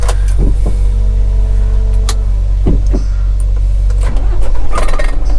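Car engine running as the car pulls away again, a steady low hum with a few clunks and brief whirs, no talking.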